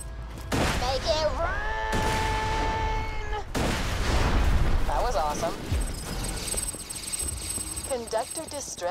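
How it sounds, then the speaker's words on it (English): Explosive charges blowing open safes on a payroll train in the video game Borderlands 2, a burst of booms and crackling blasts layered under game voices and music, loud and close. "Put the rest of Tina's explosives on those safes and watch the fireworks."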